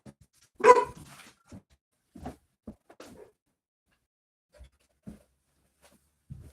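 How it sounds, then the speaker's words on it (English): A single sharp bark rings out nearby, followed by scattered softer thumps and small noises across a mostly quiet stretch, at the Missouri State Penitentiary. "what dog's barking at"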